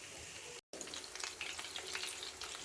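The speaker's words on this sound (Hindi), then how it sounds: "चपली कबाब को फ्राई होते हुए 5 मिनट हो चुके हैं" Peshawari chapli kebabs fry in a pan with a dense, steady sizzle and crackle, broken by a brief silent dropout near the start.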